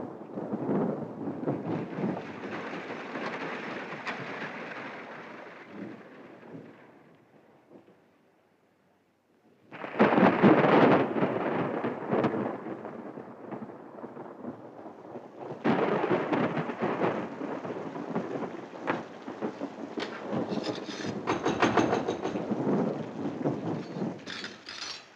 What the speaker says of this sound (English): That's a real storm coming up.